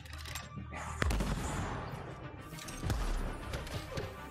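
Sniper gunfire in the game Anthem, a few sharp distant shots with booming tails over a rumbling battle background.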